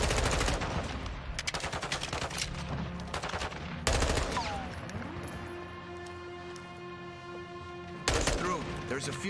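Bursts of automatic gunfire in Call of Duty: Modern Warfare II come in dense rattling volleys separated by brief pauses. Electronic tones and faint game sounds run underneath.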